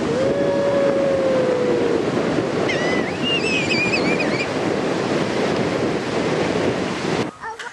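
Ocean surf at a beach washing in and out continuously, loud and near with wind buffeting the microphone and a few faint whistle-like tones above it.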